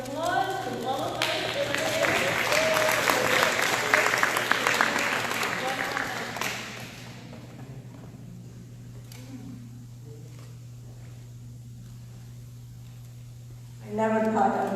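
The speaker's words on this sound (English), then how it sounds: "let's have a big round of applause to all of us." Guests at the Coalition of Muslim Women's 10th anniversary gala burst into loud, thick applause that carries for several seconds, then tapers into a quiet room murmur before a brief swell near the end.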